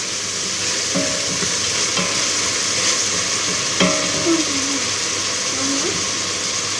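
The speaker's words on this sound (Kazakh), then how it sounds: "сәбізімізді, картопымызды ары қарай салып қуырамыз" Carrots and potatoes fry with meat and onion in a pot. There is a steady broadband sizzle with a few stirring scrapes and clinks, and a faint voice underneath.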